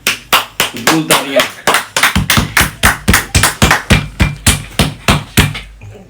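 Studio audience applause greets a guest on a cricket talk show: loud, sharp claps land in a steady, evenly spaced beat for about six seconds, close and dominant, with a brief voice near the start.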